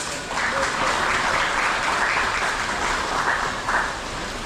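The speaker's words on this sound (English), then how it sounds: "Thanks for the applause" Crowd applause at a Divali celebration in West Palm Beach, Florida: steady, dense clapping from many hands holds at an even, fairly loud level throughout, with no voices over it.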